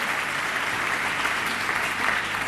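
A dense, steady burst of audience applause for a band at the Aragonese music awards in Zaragoza's Sala Luis Galve, loud and even throughout with no voices.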